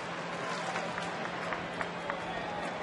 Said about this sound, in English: boy, oh boy, what a crowd this is again here this afternoon